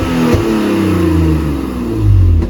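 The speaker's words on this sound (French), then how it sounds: "C'est qui accélère comme ça ici là haut?" A car engine revs hard at a drift event, a loud, close, sustained roar with rising pitch that swells again toward the end.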